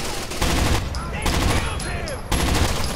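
Rapid automatic gunfire from the video game Rainbow Six Vegas comes in dense bursts with short gaps between them, loud and close, mixed with other game sounds.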